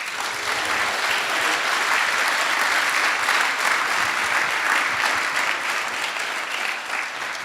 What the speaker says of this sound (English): Let's give this time each other a big round of applause.